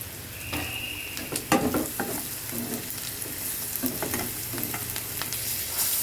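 Onions, green chilies and spices such as turmeric, fenugreek powder and asafoetida frying in hot oil: a constant close sizzle broken by sharp clinks and scrapes of a spoon stirring the pan. No one speaks.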